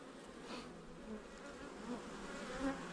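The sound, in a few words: honeybees in a hive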